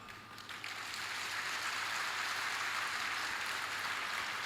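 Dense, steady applause from a large audience at a religious discourse festival swells in after a brief quieter start and holds evenly throughout, with no voices.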